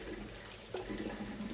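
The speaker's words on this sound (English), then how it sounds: "Put some water in there." Tap water running steadily into a sauce bottle in a home kitchen to rinse out the last of the sauce, a continuous soft gush with no talk.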